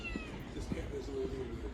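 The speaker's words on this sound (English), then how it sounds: "you hear the cat? The kitty with the catty." A lost cat meows a few times nearby, short soft cries rising over a low indoor hum while people talk.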